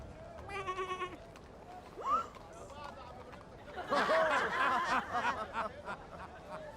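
Several wavering sheep bleats, close and fairly loud, separated by short pauses, with a burst of chattering voices and laughter mixed in.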